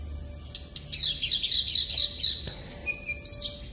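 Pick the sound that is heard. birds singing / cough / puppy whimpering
birds singing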